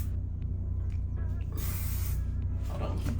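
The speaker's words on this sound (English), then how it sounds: "Now on my hair, I would not spray this much, but because this is a weave and it is a lot of hair, it needs spray." Hairspray hisses onto a weave in bursts, with short puffs and one longer spray near the middle, close to the mic and over a low background hum.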